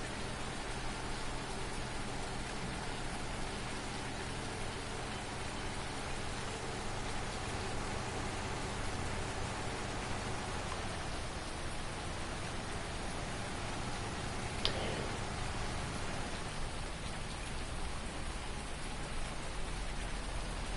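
Steady rain falls in Farming Simulator 19, a constant, even hiss of drops on surfaces that fills the whole stretch without pause or talk, with only a brief faint tick partway through.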